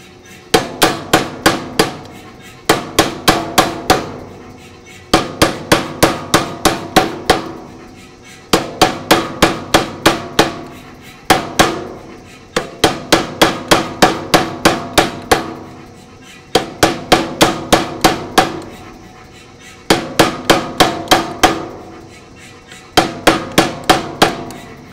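An Anyang 88 power hammer forges steel with a flatter tool held between the fixed top die and the work, striking in rapid bursts of about six to eight loud, sharp blows separated by short pauses, repeated steadily.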